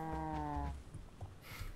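A cow gives one clear, loud moo with a strong harmonic tone lasting well under a second, followed by outdoor rustling and faint handling noises.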